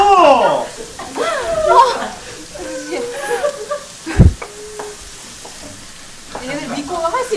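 Fried rice sizzling and being stirred in a pan during a television cooking segment, crackling frying noise with scrape and clatter bursts under lively chatter and laughter from several people.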